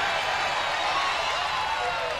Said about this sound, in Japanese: 皆さん大きな拍手をお願いします